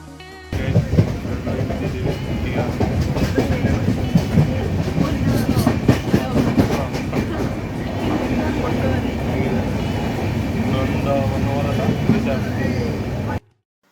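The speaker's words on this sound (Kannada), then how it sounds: "ಸೊ ಫೈನಲಿ ಟ್ರೈನ್ ರೀಚ್ ಆಯಿತು ನಮ್ಮ ಡೆಸ್ಟಿನೇಷನ್ ಪಾಯಿಂಟ್" A train arriving at a stop rumbles and clatters along the rails, loud and close, with rhythmic clicking of wheels throughout before cutting off at the end.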